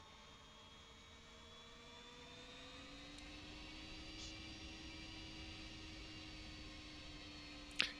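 A Boeing 767 jet taxiing back along a runway in a flight simulator: steady whining turbine hum with rising tonal pitch, a low engine drone underneath and a brief click near the end.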